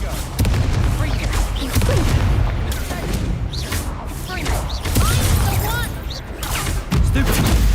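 A Confringo fire blast spell explodes in the Hogwarts Legacy video game amid combat, with repeated heavy booms and thuds layered over a dense, loud crackling rumble and whooshing magical effects throughout.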